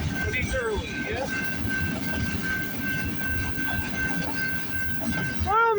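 A long CPKC freight train rolls steadily past close by, a continuous rumble of railcars with rhythmic wheel clatter, a sustained high tone and brief squeals, and faint voices underneath.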